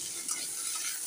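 Potatoes and turmeric fry in a pan while being stirred, giving a steady close sizzle with soft scraping, heard alone.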